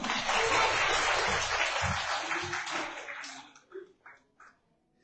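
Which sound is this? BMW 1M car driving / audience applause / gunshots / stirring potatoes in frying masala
audience applause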